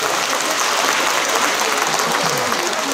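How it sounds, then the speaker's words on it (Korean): Dense, steady audience applause fills a performance hall at a civic celebration concert, loud and continuous throughout with no break. "한 박수 드리겠습니다."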